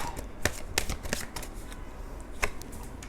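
Tarot cards being shuffled by hand at close range, with quick papery riffles and flicks in short, uneven bursts and softer sliding between them, heard alone.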